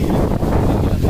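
Wind buffets a microphone outdoors along the road to Bonkuwal, a steady, loud low rumble with no break for about a second and no voices.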